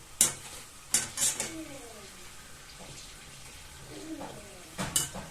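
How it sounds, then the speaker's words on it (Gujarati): Snacks frying in hot oil, a soft steady sizzle broken by a few sharp clinks and stirring scrapes, with faint voices in the background. "આપણે કામ કરીએ છીએ તળવાનું"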